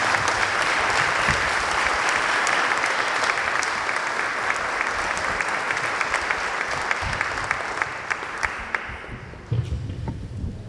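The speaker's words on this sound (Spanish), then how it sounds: "pido un fuerte aplauso para Alejandro Catarusa" An audience at a history lecture applauds the speaker, steady dense clapping filling the room for around ten seconds before thinning out toward the end.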